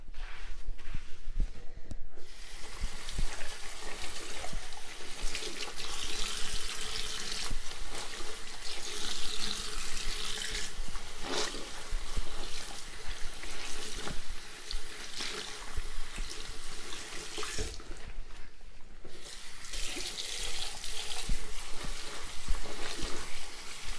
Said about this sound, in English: make sure when you're doing the sink clean as well, if you have like a tile splashback, you're wiping that down as well